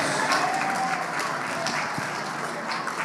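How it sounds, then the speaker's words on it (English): Brief burst of applause from a modest crowd, steady clapping for a few seconds. "Give her a round of applause."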